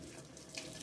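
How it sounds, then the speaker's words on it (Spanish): Water runs steadily from a tap over driftwood branches being rinsed for an aquarium, a soft continuous splashing hiss with no voices. "Y vaya cayendo el agua y vaya matando todas las bacterias"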